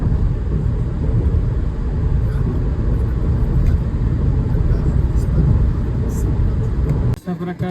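Car cruising at high speed on the Samruddhi expressway, around 150 km/h in sixth gear, with a loud, steady rumble of road and wind noise inside the cabin that cuts off abruptly near the end.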